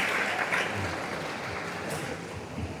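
Applause from students and staff for the teachers at an Islamic senior high school, a soft, even patter of clapping heard at a distance and fairly faint.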